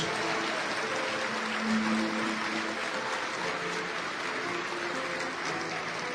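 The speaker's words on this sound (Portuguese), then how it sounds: "vamos aplaudir mais o Senhor" A church congregation applauds together, a steady dense wash of clapping that holds at even loudness throughout with no pauses, a faint murmur of voices and a low tone beneath it.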